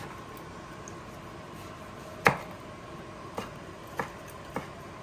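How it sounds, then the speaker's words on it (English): Knife rough-chopping tomatoes on a board, with four sparse, crisp chops, the first loudest, over a quiet background. "I'm going to simply rough chop the tomatoes."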